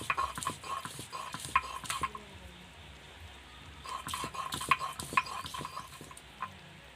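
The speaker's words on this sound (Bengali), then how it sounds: "এবার আদাটা বেটে নেব।" Ginger being ground into a paste on a stone, with irregular knocks, scrapes and rubbing strokes close by, coming in two bursts separated by a brief quieter pause.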